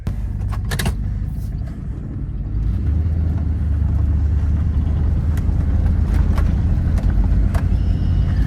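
1993-98 Jeep Grand Cherokee ZJ with 5.2L V8, freshly replaced idle air controller, driving down the road; deep steady engine and road rumble from inside the cabin with scattered clicks and rattles.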